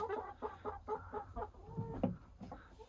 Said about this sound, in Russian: В общем, зашел курятник. Вот у нас курочки.